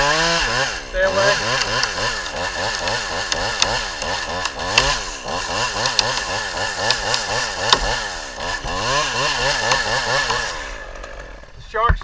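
A chainsaw roars continuously while making a shark gill felling cut through a standing tree, loud and close for the full stretch, with its revs rising and dipping, before cutting off near the end.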